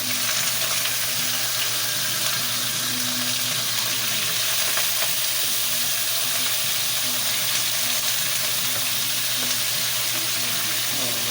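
Chicken pieces sizzle and fry in a pan with ginger for Filipino tinola in a home kitchen, a steady loud hiss that continues throughout without talking.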